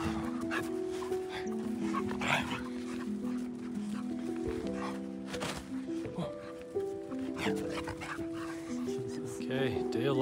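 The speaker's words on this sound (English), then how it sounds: "Oh, puppies." Puppies whimper and yip in high, wavering cries close by, while people talk and make soft sounds over them.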